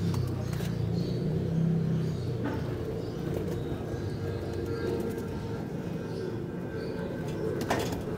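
Young pigeons on a loft landing board cooing softly and repeatedly nearby, with faint rustling in the background.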